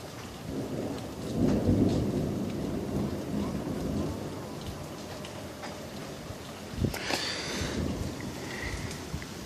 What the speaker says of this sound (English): All the drips you're hearing is water coming off the trees and off the roofs